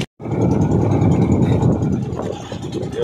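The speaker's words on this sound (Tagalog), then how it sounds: "yung makina namin nagbibisyo" A fishing boat's engine, running rough, drones loud and close with a low, continuous rumble that starts abruptly after a brief silence and holds steady throughout.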